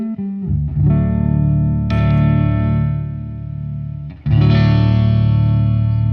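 Electric guitar played through a Fuzz Imp Amity dual overdrive pedal, thick distorted sustained chords ringing out loud, restruck twice with bright attacks and long held decay.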